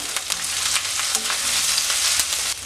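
Curry leaves and green chillies sizzle in hot oil for a tomato curd pachadi, a steady close crackle and spatter with small pops, no voices.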